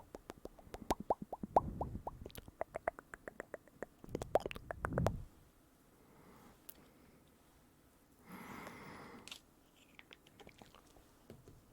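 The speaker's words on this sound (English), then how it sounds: "Some lip balm because my lips are very dry. Small, very, very small tub of Vaseline." Lip balm is dabbed from a very small tub of Vaseline in a close-miked ASMR setting, making soft, sticky clicks and smacking taps in short clusters with quiet gaps between them.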